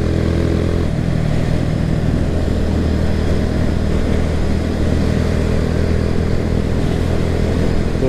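A Kawasaki W175 SE motorcycle cruising at about 70 km/h gives a steady, loud mid-pitched engine drone with wind rush, continuous throughout and with no voices.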